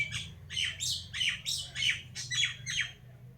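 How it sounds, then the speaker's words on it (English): Loud, close birds squawk and chirp in a rapid series of about nine harsh bursts outdoors, with a low steady background hum underneath. "Can you hear those birds?"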